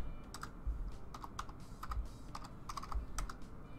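A password being typed on a computer keyboard: a steady run of close, crisp key clicks in uneven bursts, with no one talking.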